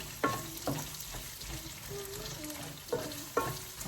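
Red and white onions frying in a pan for squid adobo, cooked after the garlic: a steady close sizzle with a few sharp stirring clatters.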